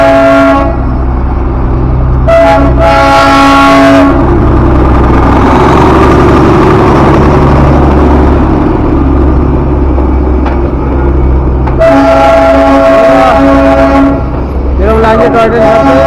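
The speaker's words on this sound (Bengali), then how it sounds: "টয় ট্রেনটা এখন ছাড়বে।" The Darjeeling toy train engine idles and rumbles loudly at the station as it gets ready to depart, with repeated strong horn toots near the start and again near the end, and voices mixed in.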